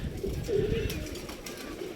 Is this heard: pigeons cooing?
yes